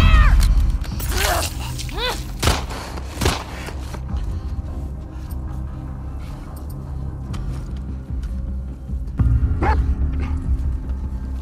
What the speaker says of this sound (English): I need to know where that dog is